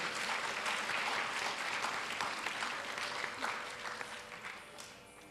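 A hall audience applauds after a Bharatanatyam arangetram dance debut, a dense, steady wash of clapping that holds evenly and then tapers slightly toward the end, heard fairly distant.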